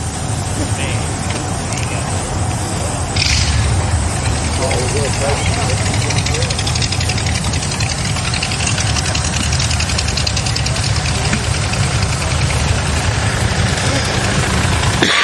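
Car engines idle at an Australia Day car show in Redlands Coast, a steady low rumble that thickens after a few seconds and holds constant, with faint crowd voices in the background.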